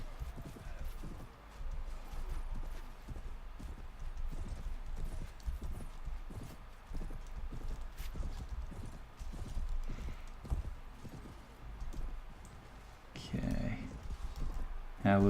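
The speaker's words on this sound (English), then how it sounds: "I can ride this horse." A horse's hooves clip-clop steadily in the medieval combat game Mount & Blade: Warband, a quick continuous rhythm with battle noise around it, a brief whinny, and someone talking over it.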